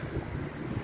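Low, rumbling wind buffeting the microphone in uneven gusts, with no voices.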